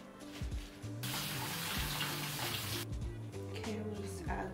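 Tap water runs steadily into a kitchen sink while the ends of fresh lettuce are washed, a close, continuous hiss and splash with faint clatter before and after the main flow.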